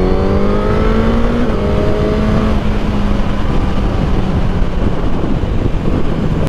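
A 2022 Suzuki GSX-S1000 motorcycle accelerating hard on a long ride, a loud, close engine drone with a rising then falling pitch and heavy wind roar throughout.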